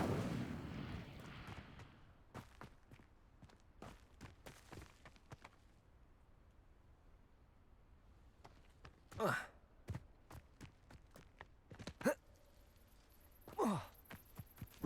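Fire spells are cast in the video game Hogwarts Legacy, sounding as several sharp whooshing bursts and booming impacts scattered among faint clicks and thuds, fairly quiet overall.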